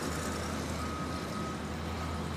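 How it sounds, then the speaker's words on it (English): Construction trucks work at a railroad underpass, with a thin reversing beep sounding over a steady mid-distance diesel rumble and traffic noise, no talk. "But Jillian, I'm still hearing those construction trucks going behind you."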